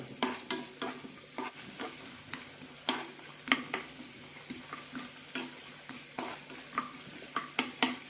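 Raisins are stirred and roasted in a pan, with a steady run of quick, close scraping taps from the spoon over a faint background sizzle.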